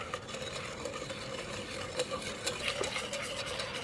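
Lemon juice mixture for lemon curd is stirred in a bowl, producing soft, continuous scraping and light clinks of a whisk, close and fairly quiet.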